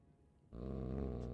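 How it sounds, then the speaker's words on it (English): A dog growls in Dragon Age: Origins, a low sustained rumble that starts abruptly after a quiet moment and holds steady and loud, close by, with no talking. "He stares at the door and growls"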